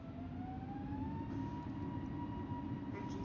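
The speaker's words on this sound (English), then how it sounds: "Check that the engines stabilize." Airbus A320 jet engines in a flight simulator game spool up to climb thrust, a steady loud roar with a slowly rising whine, continuous throughout with no talk.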